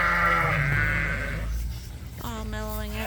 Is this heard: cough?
no